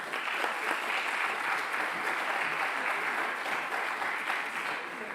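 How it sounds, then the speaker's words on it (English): Sustained applause from an audience, dense steady clapping throughout at an even loudness. "Big applause for her."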